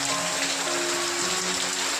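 Heavy rain pours steadily in a village during a downpour, a dense, constant hiss of falling water with faint tonal hum beneath, close and unbroken throughout.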